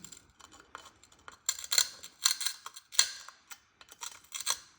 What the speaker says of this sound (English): I'm chewing away the glass